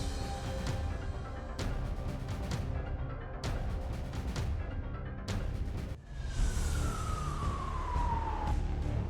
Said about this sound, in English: He didn't know about the sirens in the city